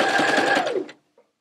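A sewing machine stitches an appliqué motif onto exterior fabric, a steady close, loud needle chatter lasting about a second before it stops, followed by a faint small knock.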